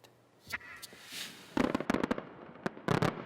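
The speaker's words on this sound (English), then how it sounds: "Fireworks fill Tokyo Harbor and fanfare heralds the torch relay" Fireworks burst over Tokyo Harbor during a torch relay celebration, with a softer opening pop and whoosh followed by loud clustered crackling bangs in quick rapid bursts, heard alone with no talk.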